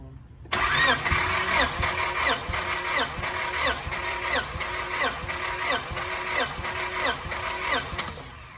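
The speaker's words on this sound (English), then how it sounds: "I'm pretty sure it's gonna shoot to 210 with 10 cranks" A car engine being cranked by the starter during a compression test, about fifteen quick rhythmic whirring turns in a steady pulsing cycle, loud and close, starting abruptly and running without the engine catching.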